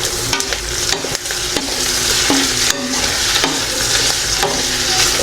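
Cubed tomatoes being stirred into pork frying in a pan, a loud close sizzle broken by regular scraping strokes of a spatula, with no speech.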